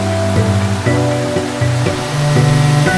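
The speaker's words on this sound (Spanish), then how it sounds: "La belleza del río nos transporta completamente hipnotizados a la siguiente cascada, la del Cerezuelo." The Cerezuelo waterfall on a river in Cazorla, Spain gives a steady, broad rushing wash of falling water, with a slow melodic musical line playing prominently over it.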